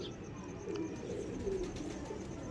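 Domestic desi pigeons cooing softly in a low, continuous murmur at close range in a breeder's loft, with faint chirps mixed in and no talking.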